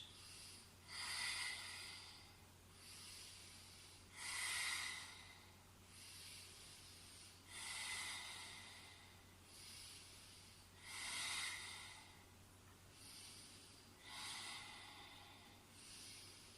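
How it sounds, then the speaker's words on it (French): Breath of fire yoga breathing: forceful, hissing exhales through the nose, about six evenly spaced bursts with quiet pauses between, close and fairly soft, with no talking. "nous allons faire à nouveau la respiration de feu. À chaque expire, on va rentrer le ventre."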